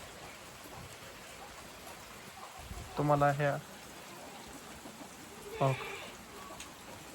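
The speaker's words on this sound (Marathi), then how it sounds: "6 वाजत आल्यात आणि पाऊस संततधार चालू आहे" Steady, moderate evening rain falls over farmland as a continuous soft hiss, with a person speaking briefly twice over it.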